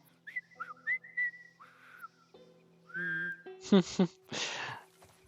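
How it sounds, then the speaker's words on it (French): The character Joel whistles a short tune in the video game The Last of Us Part I. Clear, close whistled phrases are followed by a few brief voiced sounds. "Hé, je siffle."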